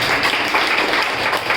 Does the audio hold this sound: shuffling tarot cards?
no